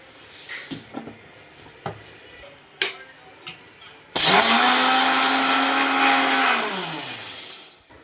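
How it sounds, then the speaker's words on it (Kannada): A kitchen mixer grinder whirs at close range as it grinds dry white chickpeas into powder, starting abruptly after a few light clicks and knocks, running loud and steady for about four seconds, then slowing and winding down. "ಒಂದಷ್ಟು ಬಿಳೆ ಕಡಲೆನ ತಗೊಂಡು ಮಿಕ್ಸಿಗೆ ಹಾಕ್ಕೊಳ್ಳಿ"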